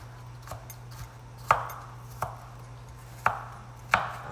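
A knife chops onion and bell pepper on a board for a meatloaf, giving sharp, unhurried taps at irregular intervals, a handful of distinct strokes over a faint steady hum, with no talking.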